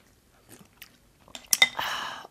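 Someone eats Korean braised short rib soup with rice and kimchi: soft close-up mouth sounds, then a burst of wet chewing and a sustained slurp at the end.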